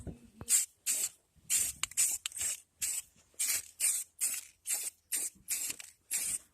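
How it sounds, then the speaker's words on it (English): Iron-removing wheel cleaner sprayed onto car wheels from a trigger bottle: about a dozen sharp, evenly spaced hissing spritzes, close and loud, with no talking. "Spraying the wheels."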